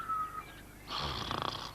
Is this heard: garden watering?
no